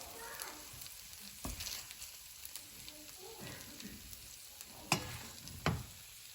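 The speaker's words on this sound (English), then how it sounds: "just give it a little mix around so it's all incorporated there" Blood sausage, potatoes and onions for Austrian Blunzngröstl are turned gently in a frying pan, giving a soft sizzle with scattered scrapes and a couple of sharper knocks, faint and close.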